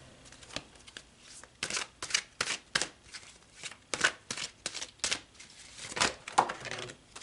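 Tarot cards are shuffled close up in a run of quick, crisp riffling bursts with short pauses between them, no talking.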